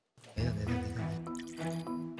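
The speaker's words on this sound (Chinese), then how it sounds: "一开始就倒水" Water poured into a cup on a table during a paper-bridge challenge: a short, close, gurgling fill lasting about two seconds after a brief silence.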